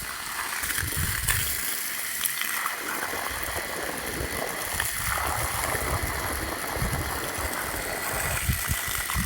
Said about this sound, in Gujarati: હવે આ બાજુ ઝાડવા પાણી પાવું છું